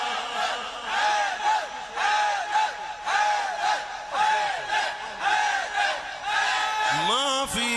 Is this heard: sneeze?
no